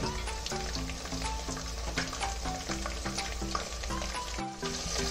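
Two onions fry in a pan for masala chitranna, giving a close, steady sizzle broken by scraping stirs, with no voices present.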